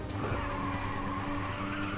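Tires skid and squeal as a car drifts through a corner in the PSP racing game Ridge Racer 2, a steady, loud screech over continuous engine roar with no talk.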